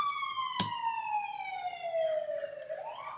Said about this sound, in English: Sorry about the siren in the back.